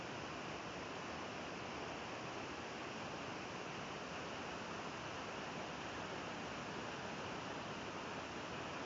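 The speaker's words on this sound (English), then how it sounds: "All I want to hear is the sound of this water flowing down these rocks." Water pours down rocks at a waterfall in western Oregon, a soft, even rushing hiss that stays constant and fairly faint from start to finish.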